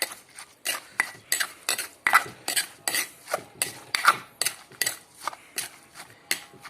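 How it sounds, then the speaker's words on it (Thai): Boiled river snails being stirred in a metal pot, with scraping and clattering strokes and shells knocking against the pan in an uneven rhythm, close and moderately loud with no speech. "ใส่ เสร็จ ก็ คน ครับ คน เลย"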